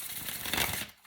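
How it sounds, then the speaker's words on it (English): A deck of tarot cards gets a quick shuffle, a close, dense papery riffling and rubbing that runs for about a second before cutting off into quiet. "I will give it a quick shuffle"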